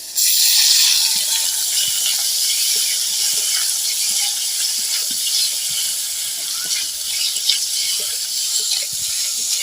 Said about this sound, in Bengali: এবার মাশরুমগুলো একটু আমি ভেজে ভেজে নেব